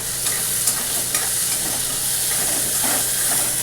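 Chopped onion and a bay leaf fry in a pan with a steady, bright sizzle and hiss, broken by occasional scrapes of stirring, close and continuous with no talk.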